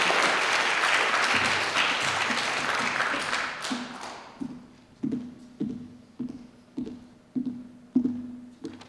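An audience at a celebration of a minister's retirement applauds: dense clapping for about four seconds, then it fades into a slow rhythmic run of single claps.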